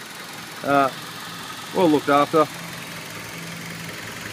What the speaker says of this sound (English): And that engine's just ticking away nice and smoothly.